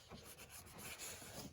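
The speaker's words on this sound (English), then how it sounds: "I'm going to clean this off. It's got a little dirt on it." Brief, quiet rubbing as dirt is wiped off a part of a Chevy Captiva during a purge valve replacement, a close, scratchy swish lasting under two seconds, with no voices.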